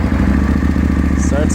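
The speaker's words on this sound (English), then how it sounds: "It hasn't started since yesterday, so this will be a cold start." A 2009 Aprilia Tuono 1000 R with Leo Vince aftermarket pipes starting cold and settling into a loud, steady, close idle rumble, with a brief higher whine near the end.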